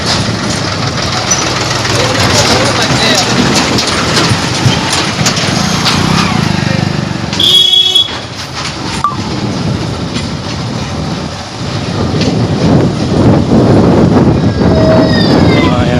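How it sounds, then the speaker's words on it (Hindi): A tractor creeps slowly along a damaged, potholed village road, its engine a loud, continuous rumble that fills the whole stretch, dipping briefly midway before building again. "धीमे धीमे चलते हुए ट्रैक्टर।"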